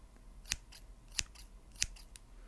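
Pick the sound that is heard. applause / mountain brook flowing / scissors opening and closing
scissors opening and closing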